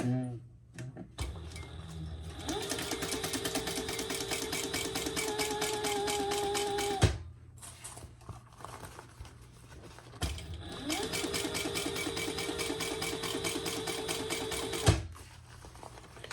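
Sewing machine top stitching a zipper pouch in two steady runs, a rapid mechanical whirring with a rising motor tone, separated by a brief pause, with faint talk between runs.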